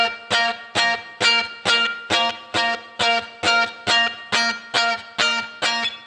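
Electric guitar playing the part through a Line 6 Helix, a distorted, compressed chord stab repeated about a dozen times in an even rhythm, each hit short with a quick decay, loud and alone.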